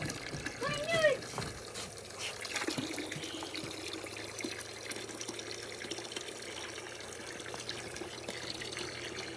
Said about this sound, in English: can you see how fast the water's coming out now?